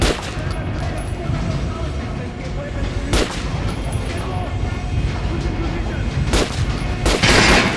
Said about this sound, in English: Try shooting for the center of the regular dummy's chest.